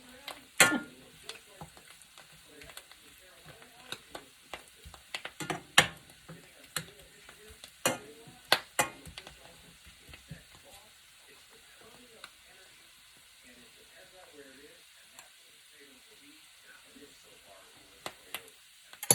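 Butter browning in a pan on the stove, heard as a quiet steady frying hiss with soft sputters and a few sharp clinks and scrapes of stirring scattered throughout.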